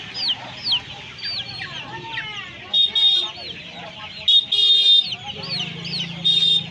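A silkie rooster clucks in short, repeated calls at a busy hen market, close and fairly loud, with other chickens and brief voices around.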